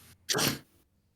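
A single short sneeze, close and fairly loud, bursting out in quiet surroundings and fading after about half a second.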